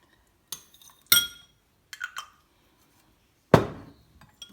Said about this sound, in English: Just give that a mix.